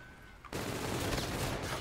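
Rapid gunfire bursts from a shooter match in Call of Duty: Infinite Warfare, starting abruptly after a quiet lead-in and continuing as a loud, dense, sustained volley to the end.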